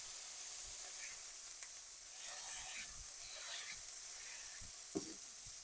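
Smash burger patties topped with onions sizzle steadily on a hot surface as they are pressed flat, a soft continuous hiss with a few faint pops and scrapes.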